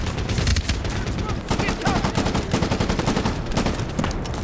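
Rapid gunfire and bursts from Medal of Honor Warfighter fill the clip with dense, continuous automatic shooting, loud and close, with crackling reports layered over low rumble throughout.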